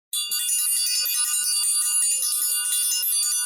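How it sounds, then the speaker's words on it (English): A bright, ringing bell struck once, its tone sustaining and shimmering for a few seconds with no talk over it. "we're ringing the bell for that"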